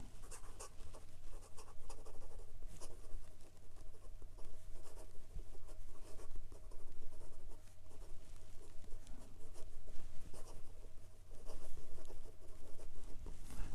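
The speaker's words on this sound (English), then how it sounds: "It's a bit scratchier and very, very dry, and some quick writing." Gold-nib fountain pen moving quickly across paper, a dry, scratchy nib with steady close scraping and patter of strokes, continuous with no talking.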